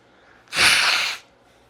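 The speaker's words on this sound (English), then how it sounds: "I gotta blow my nose really quick." A person gives one short, forceful nose blow, a breathy burst of under a second set against near silence.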